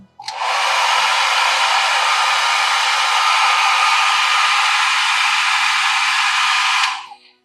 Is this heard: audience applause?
no